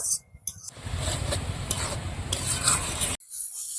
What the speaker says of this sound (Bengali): শাকটা এখন আমি ভালো করে ভেজে নেব যত সময় জলটা থাকবে জলটা শুকিয়ে নেব